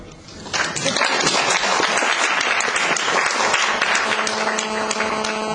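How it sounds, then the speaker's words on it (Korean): Church congregation applauding as the pastor comes forward to preach, a dense, sustained wash of many hands clapping together, loud and close, holding steady for several seconds with a faint tonal ring of instruments beneath. "박수"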